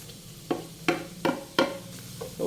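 Ginger being stirred into mixed seafood frying in a pan with butter: five or six distinct scraping strokes of a utensil at a brisk, uneven rhythm over a soft background sizzle, close up and with no talking.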